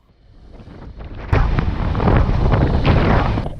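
Wind roars steadily across the open Bardenas desert on a roughly 45-degree day, a loud broadband rush that rises from a softer start into sustained, buffeting gusts hitting the microphone, with no voices.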